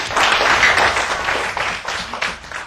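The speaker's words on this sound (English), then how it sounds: "Give him a clap." A class of children applauding a classmate named writer of the week, a burst of close, dense clapping that starts loud and thins out toward the end, with no talking.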